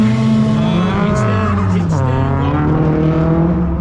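Loud, high-boost tuned car engine idling and revving, a steady heavy drone with pitch sweeps rising and falling, heard close throughout.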